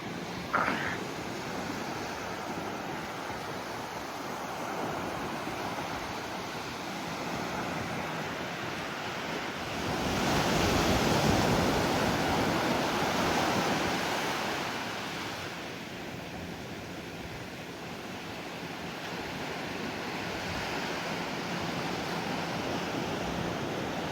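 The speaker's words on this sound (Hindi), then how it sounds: "लहरें एक के बाद एक अनगिनत," Arabian Sea waves breaking on a private hotel beach, a continuous loud wash of surf with one bigger wave surging midway, wind buffeting the microphone throughout, no voices.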